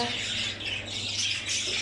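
A bird gives harsh, raspy squawks in a continuous noisy burst, fairly close, with a low background hum.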